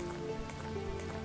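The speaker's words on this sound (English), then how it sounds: "I remember the rain." Rain patters in a soft, continuous wash of faint drops throughout the brief moment, with no voices.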